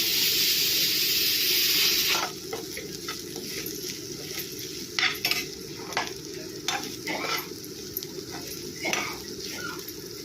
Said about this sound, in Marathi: आपण अजून एक शेंगदाण्याचा कूट घालूया दोन चमचे आणि परत परतून थोडंसं झाकून ठेवूया